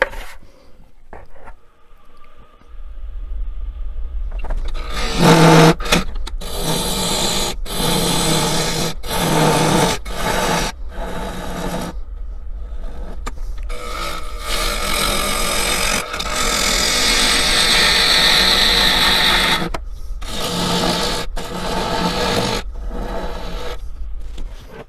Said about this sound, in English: 1000 RPM cutting into this nasty little old piece of walnut.